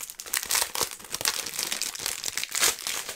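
Limited edition box packaging is opened up close, with a fast, crisp burst of plastic crinkling and crackling interspersed with small tearing sounds, loud and uninterrupted by talk.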